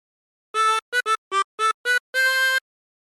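A 24-hole tremolo harmonica plays a short phrase of Yankee Doodle: a held tone, several quick separate notes, then a longer final note, clear and alone.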